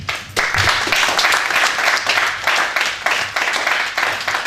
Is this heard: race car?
no